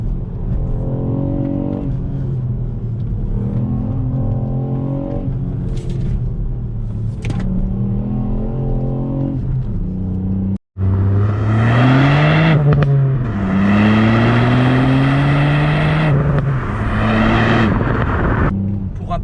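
A Ford Puma ST, a three-cylinder turbo SUV, is driven hard, its engine note rising and falling through the gears with revving pulls and a brief cut, loud and close, while someone talks over it.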